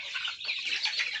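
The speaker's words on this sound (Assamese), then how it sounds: "এইখিনি সোণালী মুৰ্গী, ইয়াত প্ৰায় 400 সোণালী মুৰ্গী আছে" Sonali chickens cluck busily on a poultry farm holding about 400 birds, a dense chorus of overlapping clucks close by with no talking.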